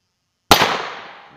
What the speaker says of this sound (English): gonna take a 22, regular 22 shells, and we're gonna see what that would do in the same targets